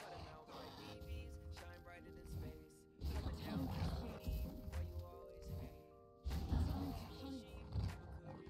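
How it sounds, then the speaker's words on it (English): Skye's wolf ability in the Valorant game passes through a closable door with a growling, rumbling roar in three loud surges, heavy and close, layered with game effects. "If you're playing Sky on Ascent, you can actually put your wolf through the closable doors."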